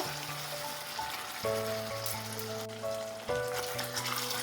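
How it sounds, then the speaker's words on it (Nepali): Mutton fries uncovered in a pan as its released juices cook off, giving a continuous crackling sizzle. Steady tonal music plays underneath, and no one speaks. "यसलाई नछोपिकन यतिकै भुट्नुपर्छ।"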